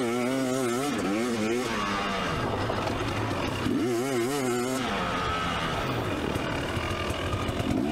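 A 2024 KTM 300sx two-stroke dirt bike is ridden on a sunny track, its engine revving up and down in repeated climbing surges, loud and close throughout without any talk.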